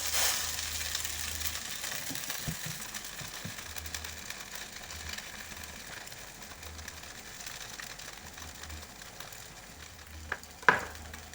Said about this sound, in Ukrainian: Розрівнюємо і викладаємо на сковорідку.